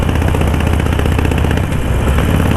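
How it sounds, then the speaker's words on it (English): A motorcycle engine runs during a winter ride in cold weather, a loud, close, continuous throbbing rumble with rapid pulsing and mechanical clatter, with no talking. "Riding a motorcycle in the cold"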